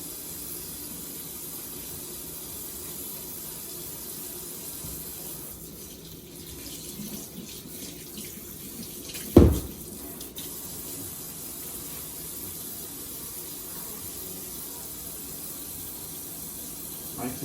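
Tap water running steadily into a kitchen sink while a knife is washed, a constant hiss with a brief clatter partway through, fairly quiet.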